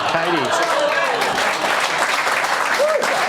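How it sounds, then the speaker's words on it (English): Studio audience applause on a comedy quiz show, clapping and cheering mixed under voices speaking over it throughout. "She gets an applause for her leg show."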